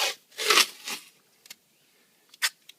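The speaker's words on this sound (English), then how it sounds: "Rub it in real good." A vinyl sticker rubbed down by hand onto a surface, giving soft dry swishing strokes: a couple of longer rubs at first, then a few short faint scuffs after a quiet gap, heard close and alone.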